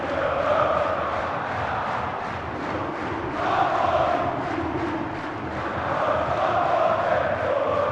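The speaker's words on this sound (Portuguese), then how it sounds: "Canta bonito a torcida do Vasco aqui no Maracanã." Vasco supporters singing in unison at the Maracanã during a Copa do Brasil match against Fluminense, a dense, steady stadium chant swelling and ebbing in waves across the stands, with no commentary over it.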